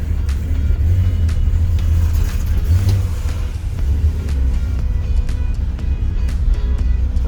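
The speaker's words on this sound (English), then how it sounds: "That's not me revving it, that's just the car doing its own thing." A BMW E32 735i engine idles and revs up and down unevenly by itself, a deep rumble holding steady throughout, close and fairly loud.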